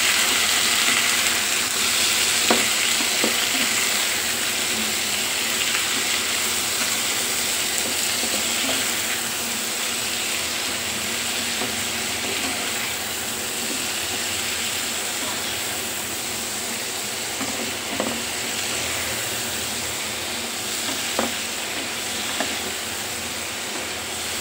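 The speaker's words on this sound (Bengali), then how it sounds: "এখন এটা আমি ভালো করে তেলের উপরে ভাজা ভাজা করে নেব" Eggplant frying in oil seasoned with salt and chili powder for a pickle-style dish gives a steady, even sizzle that runs throughout, with a few faint clinks and stirring sounds along the way.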